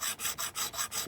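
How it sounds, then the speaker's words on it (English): A file rasping across a die-cast VW Beetle model casting, removing casting lines in gentle, even back-and-forth strokes, about six close, quiet passes in a steady rhythm. "some gentle filing, sanding down in places."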